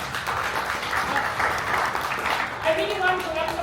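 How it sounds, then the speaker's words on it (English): Audience clapping at a gathering in Addis Ababa, a continuous moderately loud patter of many hands, with voices rising over it near the end. "big clap please for everybody."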